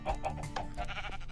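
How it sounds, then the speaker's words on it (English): Minecraft sheep bleat several times in quick succession, close and clear, over a faint low game background. "Oh, I heard a sheep."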